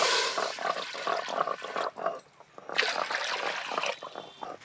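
Water splashing and gurgling into a pot of washed banskathi rice, two sloshing pours split by a short pause, close and fairly loud.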